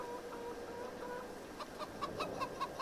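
Chickens in the farming game Farming Simulator 22 cluck in a quick series of short, sharp calls over a low background hum, growing busier toward the end.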